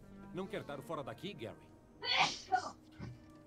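A sharp, breathy sneeze from a character in the video game Dead Rising 3 bursts out loudly right after a stretch of spoken dialogue, followed by a brief softer sound.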